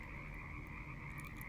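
A chorus of frogs croaking in a steady, continuous stream, soft and even in level, used as a storybook sound effect with no speech over it.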